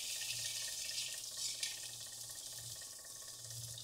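Grated ginger fries in a mustard-seed tempering over a low flame, making a soft, steady sizzle and hiss close by with faint stirring and no speech.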